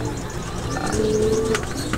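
Soft cooing and rustling of racing pigeons in a loft, with a steady background hum and a brief faint tone.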